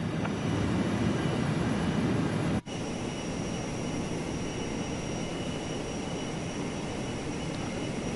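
An airliner on approach to land in Microsoft Flight Simulator 2024, a steady broadband engine and wind roar that holds level throughout with a brief dropout partway, no voices.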